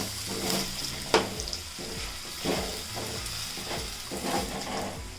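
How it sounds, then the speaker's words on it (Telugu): Potato fry with masala is stirred in a sizzling pan, the spoon scraping and turning in a steady rhythm over continuous loud frying. "అన్ని మసాలాలు వేసిన తర్వాత అయితే బాగా ఒకసారి అయితే కలుపుకుందాము"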